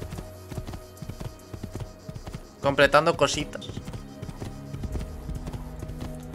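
A brief burst of horse hooves clip-clops in Assassin's Creed II, a quick cluster of footfalls rising over a quiet game soundscape while someone talks throughout.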